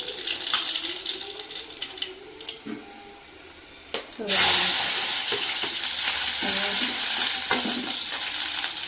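Food sizzles in a pan with a sudden loud burst as something hits the hot oil, followed by steady frying and scraping stirs; someone talks over the first half.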